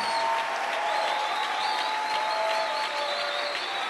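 A church congregation at a pastor's service claps and acclaims Jesus in loud, sustained applause that holds steady from start to finish, with a dense crowd texture and faint voices mixed in.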